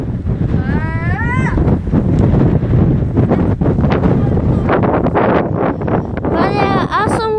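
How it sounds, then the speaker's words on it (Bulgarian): Strong wind buffets the microphone in a loud, continuous rumbling roar outdoors, with voices and a few high squeaky cries breaking through the gusts. "Има страхотен вятър."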